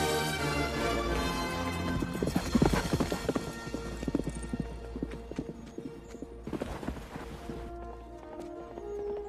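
Horse hooves clip-clop in a steady, rhythmic pattern of sharp knocks, fairly close and distinct, set over a quiet tonal musical background with no speech.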